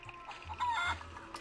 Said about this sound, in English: I love how the chickens are just all over the fort now.